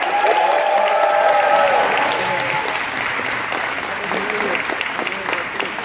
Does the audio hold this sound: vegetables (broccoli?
no